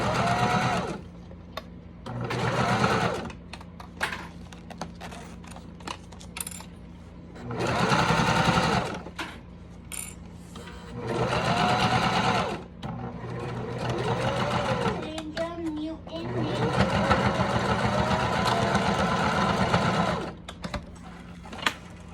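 A sewing machine stitches thick cotton fabric for a zipper pouch in repeated loud whirring bursts of a few seconds each, separated by pauses, with occasional slower hand-cranked passes.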